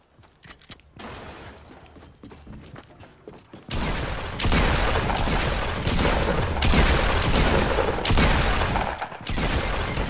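Gunfire in a Fortnite battle royale match: sparse sharp shots at first, then a loud, dense barrage of rapid rifle fire and booms that continues close and heavy to the end.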